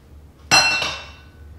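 Eggs added to homemade bacon banana bread batter, heard as a sharp, close clink that rings out briefly, then a softer second knock, with quiet all around.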